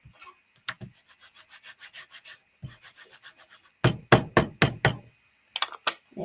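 Paper being rubbed over a stamped image on a card: a run of soft rhythmic scrubbing strokes, then a louder burst of several firm, close rubs and a couple more near the end, with no talking.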